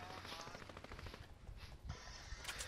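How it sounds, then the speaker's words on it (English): Gunfire in the Fortnite video game, with repeated rapid shots and bursts at moderate level, some crackling bright bursts near the end, no talk over it. "Somebody's shooting this way."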